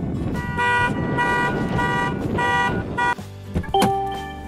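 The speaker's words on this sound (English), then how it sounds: "you can manually unlock the door and it will actually set off alarm." A Mercedes car alarm, set off by manually unlocking the door, blares with repeating electronic tones in pulsing bursts, then shifts pattern and cuts off near the end.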